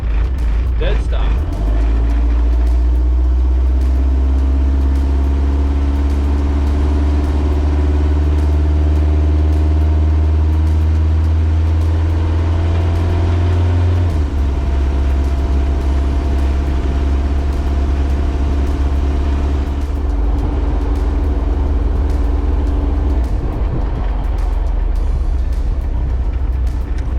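A vehicle powered by a turbocharged Kubota V2403 diesel pulls away from a dead stop and climbs a hill, a loud steady drone rising through the gears with a drop midway, with some voice under the engine.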